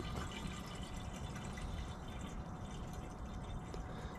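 Fuel pours steadily into a 32-ounce can, a dense, continuous liquid splash running close throughout without a break or any talking.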